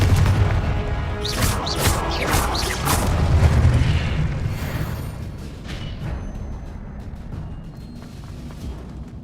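A Confringo fire spell explosion in Hogwarts Legacy, a heavy booming blast with crackling bursts that swells then slowly rumbles and fades away over several seconds.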